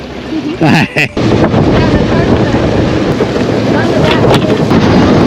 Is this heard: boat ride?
yes